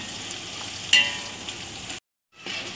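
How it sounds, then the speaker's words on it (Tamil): Onions and green chillies for a 2 kg chicken biryani sizzle steadily in a pan, with a sharp scrape of stirring, a brief drop-out, then the frying resumes. "இப்போ இதையும் வந்து இப்படி கிளறி விட்டுணும்"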